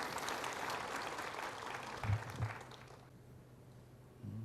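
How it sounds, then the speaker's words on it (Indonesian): A church congregation gives a hearty round of applause during a sermon, a moderate wash of clapping that tapers off after about three seconds into quieter room noise, with a couple of thumps along the way. "Tepuk tangan yang meriah buat Tuhan Yesus."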